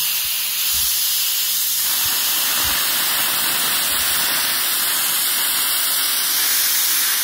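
A loud, forceful jet of steam hisses continuously at close range from a Black and Decker FSM1605 steam mop, a steady broad spray with a faint low rumble beneath.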